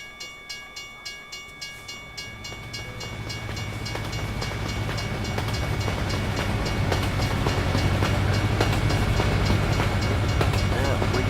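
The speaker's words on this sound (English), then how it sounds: "Yeah, we got Amtrak." An Amtrak Silver Star passenger train in American Truck Simulator passes by: evenly spaced rhythmic clacks at first, then a swelling rumble of rolling wagons that grows louder and steadier, with a sustained tonal hum above it.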